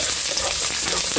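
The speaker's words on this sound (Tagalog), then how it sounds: "mainit na yung mantika at saka kawali kasi mabilis siya mag-brown yung garlic" Garlic and onion fry in hot oil in a wok, giving a steady, close, dense sizzle with faint stirring scrapes and no voice.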